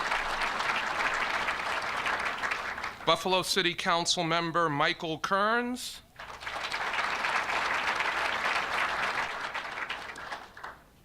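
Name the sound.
audience applause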